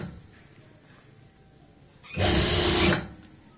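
A sewing machine stitches pants fabric in one short, loud burst of under a second, close up, after a quiet stretch of low room noise.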